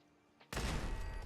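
A single sharp burst of gunfire in the video game Fallout 4, sudden and loud after a quiet moment, with a lingering tail.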